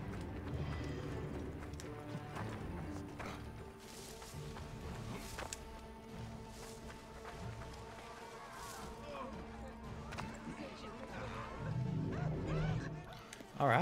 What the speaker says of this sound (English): I didn't think I was breaking rules just by riding a horse